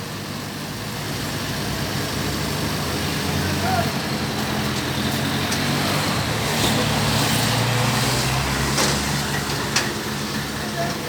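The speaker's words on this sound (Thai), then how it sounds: "เอาเร่งเครื่องช่วยนิดนึงครับ" A six-wheel flatbed slide tow truck's engine rumbles steadily and is revved lightly while it runs, with traffic noise around it and people talking over it.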